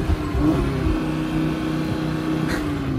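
A new Audi RS3's engine revs at close range, a steady mid-pitched drone with a slight rise and fall, heard alone without talk.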